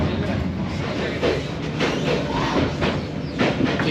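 A passenger train in Vietnam rolls along the rails with a steady rumbling drone and faint rhythmic clatter, heard from inside the carriage.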